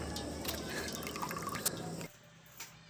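Small homemade DC water pump run from a power bank, pouring a thin stream of water that drips and splashes steadily at close range for about two seconds, then cuts off to near silence.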